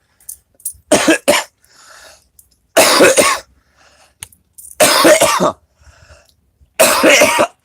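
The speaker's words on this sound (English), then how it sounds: "coughing every morning" Harsh, deep coughing comes in four separate fits, each a quick burst of two or three coughs with quiet pauses between.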